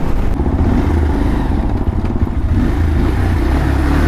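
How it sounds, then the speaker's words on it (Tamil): A Bajaj Pulsar 150 double-disc motorcycle engine runs steadily throughout with a loud, continuous low-pitched thrum. It sounds like the bike is being ridden, with no speech over it. "ஆனால் வண்டி போயிட்டே தான் இருக்குது."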